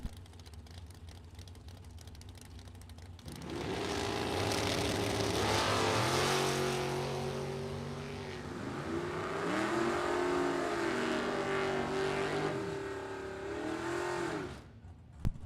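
Drag race cars, a Mustang among them, launch and roar down the strip in a Super Pro and Pro Eliminator event, engines rising and shifting through gears over several seconds, loud but slightly distant.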